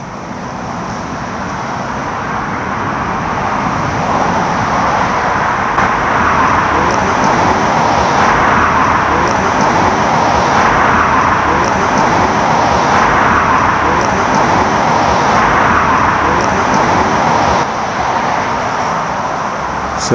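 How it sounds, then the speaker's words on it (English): Loud, steady road traffic rumbles on without a break near a dark cemetery at night, with passing vehicles swelling and fading now and then. "but the traffic's that loud at the minute."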